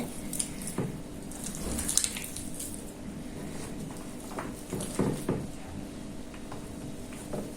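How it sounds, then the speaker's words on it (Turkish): A spoon stirs a potato dish coated in sauce before it goes into the oven, giving soft wet squishes and light patters at a steady, close pace. "İyice karıştırıyoruz şimdi."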